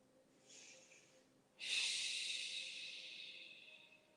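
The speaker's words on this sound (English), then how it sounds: "And breathe." Slow, audible breaths during a yoga stretch: a soft inhale through the nose, then after a short pause a longer, louder hissing exhale that gradually fades, close and with no talking.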